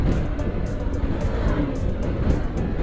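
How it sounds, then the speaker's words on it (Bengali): Buses and other traffic pass on a highway, making a steady, loud, close road roar that stays even throughout. "এই যে দেখেন বাসগুলো কীভাবে আসতেছে"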